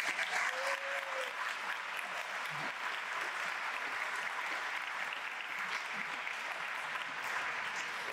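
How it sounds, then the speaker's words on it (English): Steady, sustained applause from a crowd at a college sports awards banquet, even and continuous throughout with a faint voice briefly audible early on, heard from a moderate distance. "so we really need to give him a round of applause"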